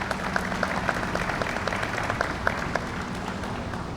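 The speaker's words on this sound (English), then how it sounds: "CTA President Dorville Carter, please give him a round of applause." An audience at a Damen Green Line station ribbon cutting claps in a sustained round of applause. Individual sharp claps stand out from the steady wash of hands.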